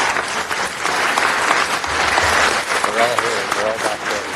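An audience at a city council meeting applauds an employee being recognized, a loud, sustained round of clapping from a crowded room with a few voices mixed in.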